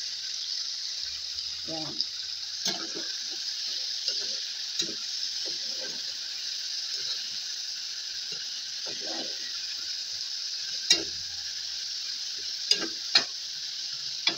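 Food being stirred in a pan while ginisa mix is added, with soft scraping and sizzling under a steady frying hiss, broken by occasional clicks and talk.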